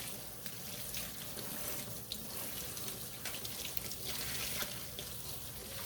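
A tap runs steadily into a sink while soapy handspun linen yarn is rinsed, giving a close, continuous splashing flow with small irregular splashes and no talk.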